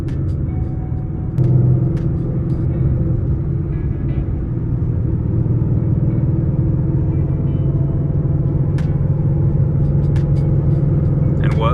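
A manual Ford Mustang cruises in fourth gear, its engine a steady low rumble with road noise throughout, rising slightly in loudness early on, while a voice talks over it.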